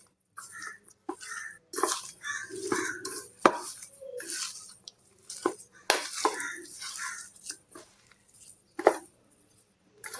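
Aloo paneer bird nest ingredients with turmeric powder and salt are mixed in a bowl, irregular soft squelching, scraping and clinking of a spoon against the bowl, close and intermittent, no speech.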